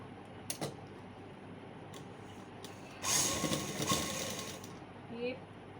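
A sewing machine stitches a single seam on night suit trousers in a quiet room, a burst of fast mechanical whirring lasting about two seconds, with faint clicks before and a brief tail after.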